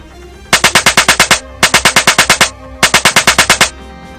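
Toy machine gun sound effect from a 1985 G.I. Joe Cobra Moray Hydrofoil, sounding as three loud, close bursts of rapid electronic gunfire, about eight shots each, separated by short pauses.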